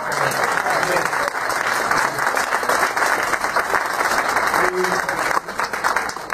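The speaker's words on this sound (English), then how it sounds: "Another round of applause" Audience applause fills a room at an intellectual salon event honoring Cheryl Wills, a dense, steady wash of many hands clapping close by, with a few voices faintly mixed in underneath.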